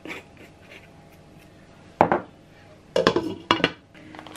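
A pot of courgette and pea vegetable soup is set on to cook, giving a few close clanks and knocks of metal cookware, one single hit then a quick cluster of three, with no talking.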